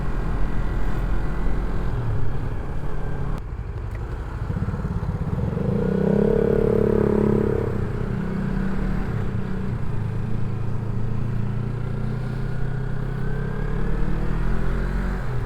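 A Yamaha MT25 motorcycle being ridden, its engine droning steadily with rising and falling revs and passing traffic noise, wind-heavy and continuous throughout.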